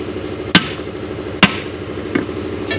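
Hammer blows set the lock ring on a dumper truck tyre in a tyre shop, two sharp metallic strikes and a lighter third tap over a steady background hum.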